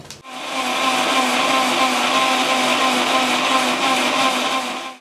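An electric mixer jar grinding fried fish curry masala, a loud steady whirring hum that starts abruptly, holds constant for several seconds and then cuts off.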